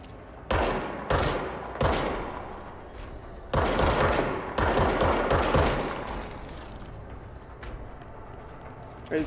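Gunfire in the video game Control comes in loud, close bursts, several sharp volleys followed by a longer sustained stretch of rapid shots that tails off into a quieter rumble.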